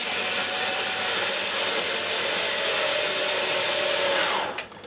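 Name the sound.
screwdriver driving screw into Miele S6 vacuum cleaner body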